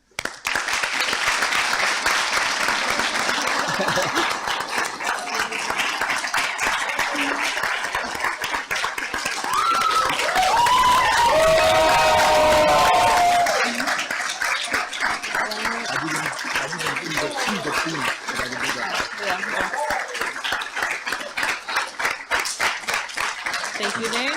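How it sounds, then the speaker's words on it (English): A graduation audience for a Masters of Space Studies class gives a sustained round of clapping that runs loud and continuous throughout, with a brief tonal squeal or whine rising partway through. "Let us rise and give a round of applause to the graduated Masters of Space Studies class of 2023 and the rest of the cohorts."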